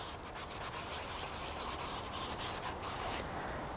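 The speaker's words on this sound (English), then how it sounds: "you just put the product onto the pad and then you just work it in" Polish being worked into a car paint polishing pad, a steady soft rubbing and scrubbing texture that continues evenly throughout at close range, with no talking.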